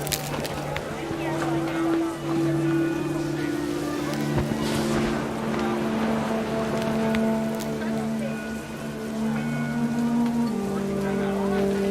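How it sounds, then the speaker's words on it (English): Heavy rain pouring down on a tent in the video game What Remains of Edith Finch, a loud steady downpour with a sustained tonal layer of music or wind running beneath it throughout. "rain came down in buckets then"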